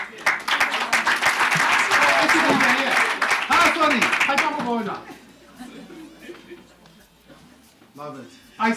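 Applause from an audience at a brand awards event in South Africa, brisk clapping mixed with talk and chatter for several seconds, then fading as voices continue.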